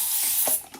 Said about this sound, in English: we are just spraying these down with water